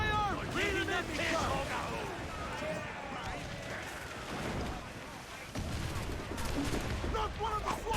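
Cannon fire in a naval battle in Assassin's Creed IV: Black Flag, with heavy booms and rumbling blasts repeating amid constant battle noise. Shouting voices sound over the cannons.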